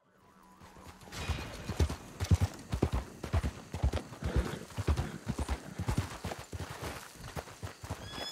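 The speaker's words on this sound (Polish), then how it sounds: "Twój koń został chyba" Horse hooves clip-clopping in Red Dead Online, a steady rhythmic stream of close, distinct hoofbeats that continues throughout without pause.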